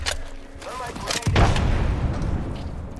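Gunfire in the video game Apex Legends: a few close booming shots and thuds over a rumbling game soundscape, mixed with other game noise and some voices.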